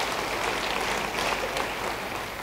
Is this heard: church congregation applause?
yes